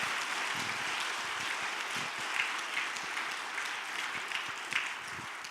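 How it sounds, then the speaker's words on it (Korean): A church congregation at an evening revival service claps together in a sustained round of applause, the dense patter steady and moderately loud, with no voices over it. "여러분 마음을 모아서 한번 큰 박수 한번 해주시기를 바랍니다"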